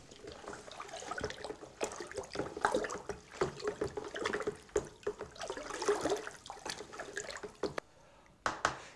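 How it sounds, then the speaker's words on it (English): Liquid fertiliser or ferrous sulphate solution stirred in a bucket, giving continuous sloshing and swirling water sounds up close, fairly quiet and uneven, with no one talking. "give that a really good stir"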